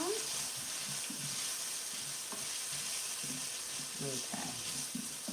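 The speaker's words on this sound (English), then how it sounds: "we wait for this bacon to kind of render off and crisp up" Bacon with onions and sweet peppers sizzles and fries in a pan, a steady close crackling hiss throughout with occasional stirring and faint clinks.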